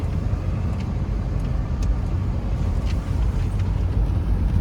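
Steady low engine rumble of a SsangYong Kyron SUV being towed and driven off-road through a muddy one-way bog, continuous and fairly close with no talk over it.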